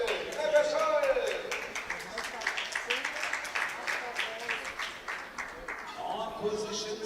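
An arena crowd at an air rifle medal match breaks into applause for a shooter, a busy patter of many hands beneath an announcer's voice, swelling slightly at the end.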